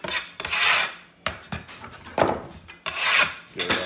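A scraper is dragged across a cutting board to gather chopped onion, making four close, raspy scraping strokes in a loose rhythm with short pauses between them.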